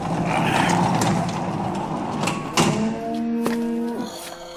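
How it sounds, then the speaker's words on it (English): Welsh cows lowing inside a neglected cowshed, several loud, drawn-out moos overlapping near at hand amid barn clatter and thumps. "You want to see your Welsh cows?"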